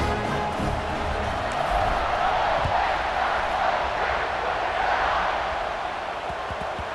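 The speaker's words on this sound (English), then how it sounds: "this crowd is buzzing after that last score" Stadium crowd in EA Sports College Football 26 after a score, a steady, dense roar and murmur of many voices that holds at an even level throughout, with no single voice standing out.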